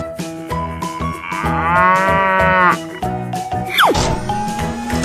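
Cartoon cow gives a long, loud, drawn-out moo in a 3D animated animal scene, rising and falling over busy background music with other animation sounds around it.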